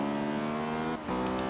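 Acura Integra Type R in Forza Horizon 3 holds a steady high-revving engine note, briefly dips as if shifting near the one-second mark, then pulls again under acceleration, loud and continuous with no talk.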